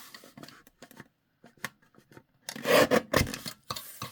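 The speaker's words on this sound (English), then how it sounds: "So I'm going to trim that much off." Paper being trimmed for small matchbook-style paper pads, a string of short dry cutting and rasping strokes that grows louder and denser toward the end, close by with no talking.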